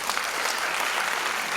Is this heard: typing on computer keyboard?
no